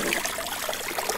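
Water trickles and drains from an underwater drone as it is lifted out, a close, steady splashing dribble that fills the short moment without any talk.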